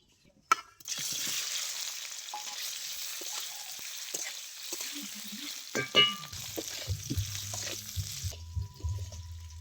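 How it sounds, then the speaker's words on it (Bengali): Boiled potatoes lightly frying in oil give off a steady, close sizzle throughout, broken by a few sharp clinks and scrapes of stirring, with a low hum rising near the end. "আলুটা আমি আগে থেকেই সেদ্ধ করে রেখেছিলাম, এবারে হালকা ভেজে নেব।"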